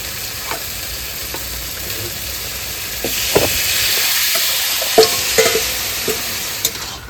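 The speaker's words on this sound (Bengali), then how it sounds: "তো মাংসটা আবার একটু ভালো করে কষিয়ে নিই" Marinated mutton fries loudly in a pan, a steady bright sizzle swelling midway as the meat is stirred, with intermittent clanks and scrapes of the spoon against the metal.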